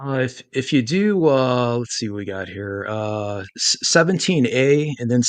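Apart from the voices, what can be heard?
None of the usual background noises is heard.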